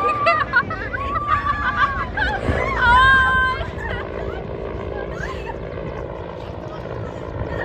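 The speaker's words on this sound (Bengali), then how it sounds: "সত্যি আজকে হান্না নাটকে হেলিকপ্টার আসছে গাইস" A helicopter rumbles low overhead as it nears, its steady drone mixed with a busy crowd of people chatting and laughing close by.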